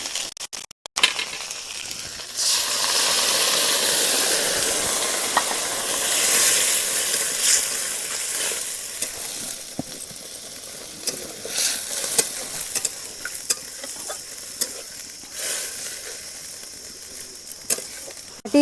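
Chopped onion and capsicum fry in a pan, giving a steady, fairly loud sizzling hiss with scattered spoon scrapes and clicks as they are stirred.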